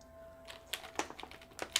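Mechanical keyboard fitted with Mode keycaps of blended ABS and PBT, quiet build, typed in a short burst of close, crisp keystrokes with no voice present.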